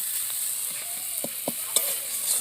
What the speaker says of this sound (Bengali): 1 চামচ লঙ্কার গুঁড়ো দিয়ে দিলাম। দিয়ে ভালো করে মশলাটাকে কষিয়ে নিতে।